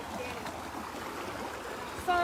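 Creek water runs beneath a road, a soft, steady trickling flow heard faintly and close by, with a brief louder knock near the end.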